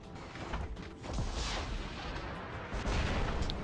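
Heavy weapon fire from a combat robot in the War Robots mobile game, a sustained rumbling barrage of booming shots with dense low-end thuds running continuously through the clip.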